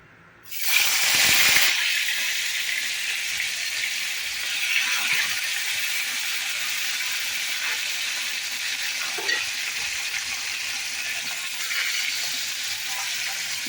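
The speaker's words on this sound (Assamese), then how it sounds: "কেৰাহীত তেল দিলোঁ, গৰম হৈ গ'ল। এতিয়া মই মাছখিনি ভাজি ল'ম।" Fish rubbed with turmeric and salt frying in hot oil in a wok, opening with a loud burst of sizzle as it goes in, then settling into a steady, bright hiss and crackle with a few light stirs and clinks.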